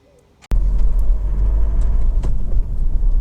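Honda CR-V 2.2 i-DTEC EX 4x4 diesel on a road test: after a brief quiet start, a sudden thump gives way to a loud, steady road and engine rumble from inside the moving car.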